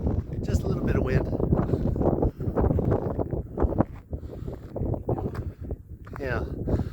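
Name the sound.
wind blowing at Badlands National Park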